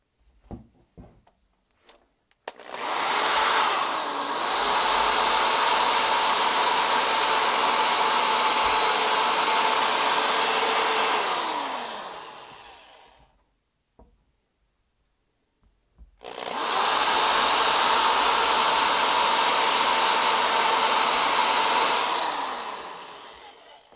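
Two long bursts of loud, steady broadband whirring from power sanding an Xbox 360 game disc with 800 grit from a 3M headlight restoration kit, each running about nine seconds and separated by a short pause.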